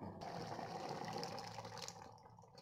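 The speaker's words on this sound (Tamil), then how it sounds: "நம்ம இதுக்கு தேவையான தண்ணி நம்ம சேர்த்துக்கலாம்" Water is poured into a pot of vegetable sambar with cooked dal during cooking, a faint, continuous gushing splash that lasts a couple of seconds and then trails off.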